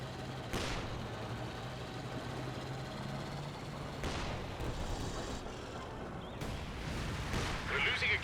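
Heavy booms from a rapid-firing M1 anti-tank gun in a Company of Heroes 2 battle, with sharp blasts near the start, middle and end over a dense rumble of combat noise.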